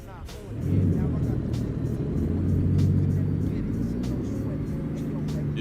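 Heavy haul truck's diesel engine labouring as it tries to pull away on a small hill, a deep steady rumble swelling then holding loud and close while someone talks over it.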